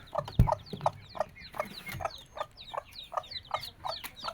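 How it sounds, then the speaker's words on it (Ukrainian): A hen clucks in short repeated bursts, with high thin peeping of her newly hatched chicks scattered throughout, close by and fairly clear. "Це ж тут курочечка сидить уже з новими курчатками."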